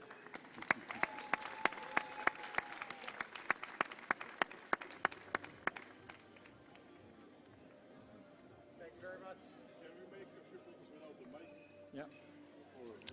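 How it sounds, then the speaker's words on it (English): Scattered clapping rings out at first, fading into a murmuring crowd with voices in the background, at the World Rowing Under 19 Championships in Plovdiv, Bulgaria. "Let's have a final round of applause for all our athletes"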